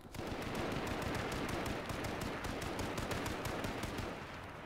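Rapid automatic gunfire in the survival shooter H1Z1 rattles in a continuous, fast burst of sharp cracks, steady and fairly close before tapering slightly at the end, with no talking.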